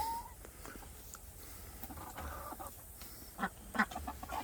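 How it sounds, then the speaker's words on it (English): Backyard ducks and Bielefelder chickens call from a distance, with a few soft quacks and clucks near the end over quiet outdoor background noise, and nobody talking. "That's our ducks and our chickens in the back."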